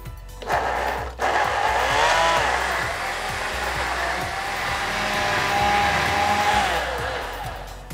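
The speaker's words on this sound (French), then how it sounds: "Ce qui est important, c'est de bien mixer et de bien émulsionner pour qu'on ait un mélange très mousseux" A blender whirs loudly, mixing a savoury smoothie of cucumber, goat cheese and mint, a steady high motor whine that starts abruptly, briefly cuts out, then runs on with slight changes in pitch.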